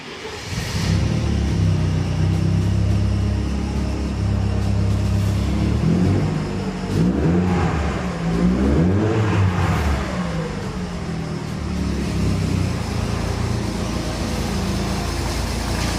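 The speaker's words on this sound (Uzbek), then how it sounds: "Endi birgalikda yoqib ko'ramiz mashinani." A Mercedes W210 car engine turns over and settles into a steady running rumble, close and loud, with a brief rise in revs partway through and no talking.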